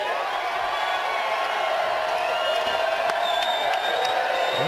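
A crowd at a poker tournament cheers and whoops for player Billy Pappas, a continuous roar of voices holding steady at moderate loudness, with individual shouts rising above the mass.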